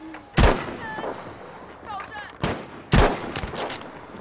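Battlefield V gunfire, three loud, sharp shots in quick succession amid game effects and a player's excited talk.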